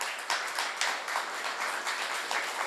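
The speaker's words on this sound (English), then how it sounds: "can we get another round of applause for our two speakers this evening?" A quiet audience at an evening entrepreneur event claps for two speakers, a dense, even patter of many hands lasting throughout, heard from a distance with no talking.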